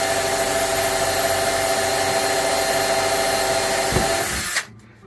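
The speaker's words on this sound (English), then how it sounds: "I like to come in and do like a little bit of a pre-drill." A power drill whines steadily, loud and close, as it pre-drills a hole into hard steel, then winds down and stops near the end.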